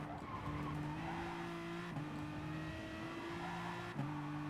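A racing car in Gran Turismo Sport skids under ABS braking, its tires squealing in long steady tones that break and restart about every two seconds over the engine drone, heard alone at moderate loudness.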